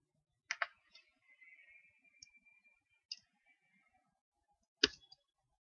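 A computer mouse clicks sharply and close, with a few single and double clicks spaced out over quiet, while navigating a forex trading platform, MetaTrader.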